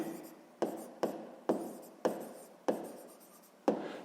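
A pen writing on paper while working through a sixth-grade map-scale maths exercise: six close, crisp scratching strokes, each starting sharply and fading, in a quiet room.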